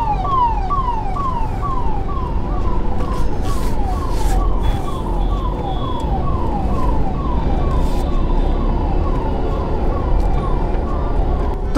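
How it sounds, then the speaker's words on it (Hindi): An ambulance siren wails loud and close in street traffic, its rapid repeating up-and-down yelp cycling steadily throughout over constant engine and road rumble, with a brief horn-like tone partway through. "तो एम्बुलेंस एटलीस्ट पीछे से मेरे यहाँ से क्रॉस करके आगे जा चुकी है"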